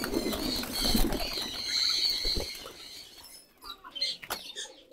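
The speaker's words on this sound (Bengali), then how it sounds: "আজকে নর কবুতর ছাড়ার পালা। গেটটা খুলে দিলাম।" Male pigeons burst out of an opened coop, a loud flurry of flapping wings close by that thins into scattered flutters and brief rustles before falling quiet.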